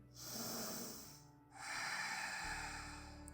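Deep breathing during a full-body yoga session: one long, close airy breath of about a second, a short pause, then a second, stronger and longer rushing breath, with no talking.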